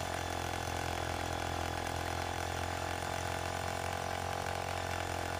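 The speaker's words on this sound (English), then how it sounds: "you can see the hammer drill's working its way through" A hammer drill roars continuously at a steady pitch while boring through a solid four-inch brick foundation wall, a dense mechanical hammering drone with no pauses throughout.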